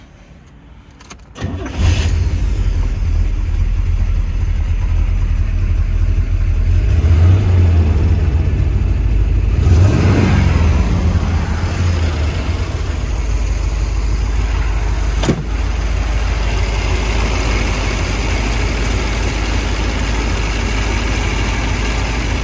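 A 1970 Chevrolet Corvette engine turns over and settles into a loud, steady low rumble, holding a continuous idle and driving drone with slight swells in revs throughout, with no talking.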